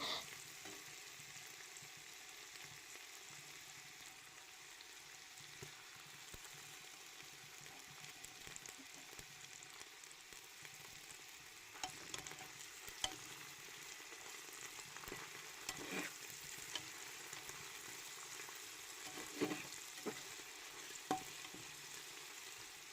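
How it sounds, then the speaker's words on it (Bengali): Garlic and ginger paste frying in a pan for khichuri, a steady low sizzle running throughout with a few brief stirring scrapes and clicks near the end. "আদা বাটা দিয়ে কিছুক্ষণ ভেজে নেওয়ার পর"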